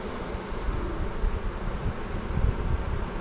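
Honey bees in a nucleus hive being worked frame by frame give a steady, close, low droning buzz that swells and fades slightly, with no voices.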